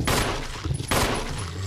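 Gunfire in the Resident Evil remaster video game as a zombie is shot: two loud, sharp bursts about a second apart, each trailing into a reverberant rumble.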